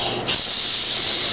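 A voice imitates a snake's hiss, a steady breathy hiss that dips briefly and then holds loud and close for over a second.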